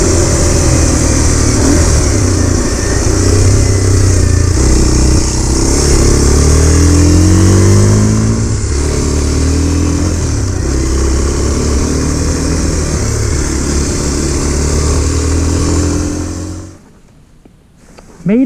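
A Kawasaki KLX 230 motorcycle engine, made in Thailand, is revved hard at full throttle nearby, a loud sustained roar that climbs and falls in pitch through several pulls before dropping away sharply near the end.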